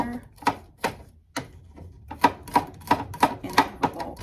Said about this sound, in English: we're gonna start by chopping our garlic